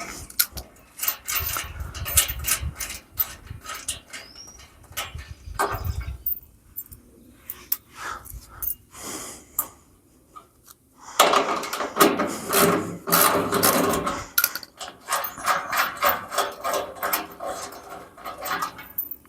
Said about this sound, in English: these 2 bolts here I'm taking back out.